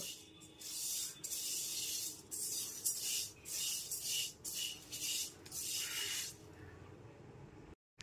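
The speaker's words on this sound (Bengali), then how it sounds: "মুগ ডালটা দিয়ে দেওয়ার পর গ্যাসে ফ্লেমটা লোতে রেখে একটু সময় নিয়ে মুগ ডালটাকে ভেজে নেব" Mung dal dry-roasts in a pan over a low gas flame, a dry rustling, scraping hiss from repeated stirring in uneven bursts that stops abruptly near the end.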